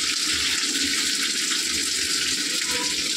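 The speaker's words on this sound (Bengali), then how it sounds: "সামান্য একটু জল দিয়ে দিই।" A small splash of water goes into a pot of split lentils and rice, a short, steady, close pouring rush under a faint background hiss, with no voices.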